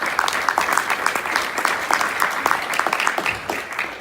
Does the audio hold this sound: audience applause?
yes